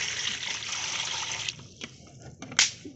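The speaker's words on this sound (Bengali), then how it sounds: "আমি মাংসটা ধুয়ে নিই।" Running water from a tap splashes steadily over country chicken meat being washed in a kitchen, a continuous close trickle for about a second and a half, then breaking into a few shorter splashes and drips.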